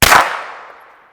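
A suppressed CZ P-09c pistol fitted with an AB F4 suppressor fires a single shot: a sharp muffled crack followed by a quick decaying tail, alone and fairly loud.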